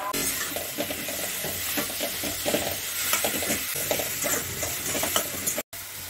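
Ground seeds and pickle masala fry in a pan for stuffed bitter gourd, a close, loud sizzle with rhythmic scraping stirs and a brief cut near the end.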